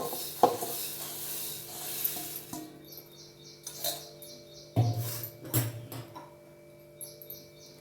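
Puffed rice being mixed with salt for bhel, giving light scattered rustling and stirring with a few sharp clinks against the bowl, moderately close and quiet, with no talking.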